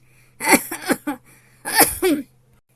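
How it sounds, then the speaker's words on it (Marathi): Two close clusters of harsh coughs, three quick bursts followed by two more, break out over faint low background hum. "काय झालं खोकला आला वाटते"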